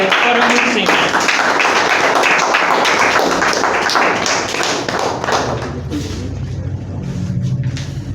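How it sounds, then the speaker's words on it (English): An audience at a student event applauds, dense clapping filling the hall loudly for several seconds before thinning out as a voice begins over it. "you give yourself a great round of applause"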